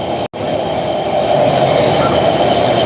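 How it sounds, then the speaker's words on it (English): A train rumbles past close by in Jerusalem near the Old City, heading to the City Hall station, loud and continuous, its wheels and carriages producing a steady roaring clatter. "we're seeing the train going towards the next station."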